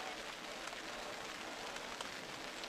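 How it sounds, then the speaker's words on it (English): Heavy rain pours down steadily at a high school baseball game, a dense continuous hiss of drops on surfaces, even and unbroken throughout. "with the rain coming down as hard as it is"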